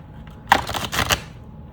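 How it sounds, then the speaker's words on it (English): A deck of tarot cards is shuffled by hand nearby, a quick burst of soft riffling and flapping lasting under a second, alone in a quiet room. "I'm just gonna give this a nice little shuffle."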